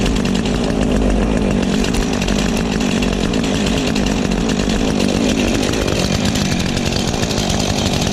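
Husqvarna 450 and Stihl MS 251 chainsaws idle and rev together as they warm up after a 20-foot drop, a loud, steady, close two-stroke drone with constant buzzing and no talk.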